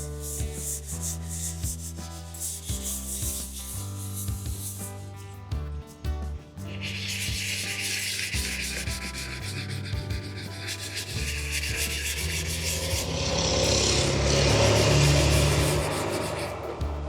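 Steady rasping of dry sandpaper rubbed back and forth over a car's painted spoiler and bumper, continuous and close, growing a bit louder toward the end.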